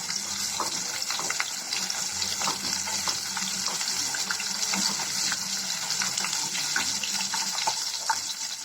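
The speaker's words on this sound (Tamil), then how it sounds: "இது கூடவே ஒரு 10 வெங்காயம் கிட்ட சேர்த்துக்கிறேன். இதை நல்லா வதக்கிக்கலாம்." Onions and chana dal sautéing in hot oil with curry leaves for a Chettinad green chilli gravy, making a constant, even sizzle with faint crackles and no talk over it.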